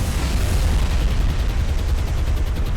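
Rocket attack by aircraft on ships in the naval combat game War on the Sea, a continuous dense roar of explosions and rumbling blasts with no clear gaps.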